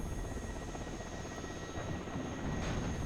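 A Mi-8T helicopter's rotor and engine drone during a rocket attack in the video game WARNO, a constant, dense whirring roar that holds steady throughout, with no clear separate blasts.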